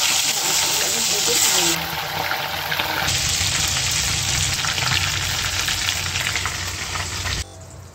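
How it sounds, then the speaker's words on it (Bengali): Chicken pieces rubbed with salt and turmeric fry in hot oil in a wok, giving a loud, continuous sizzle that dips briefly early on and cuts down sharply near the end. "দেখুন বন্ধুরা, আমার মাংসগুলো ভাজা হয়ে গেল"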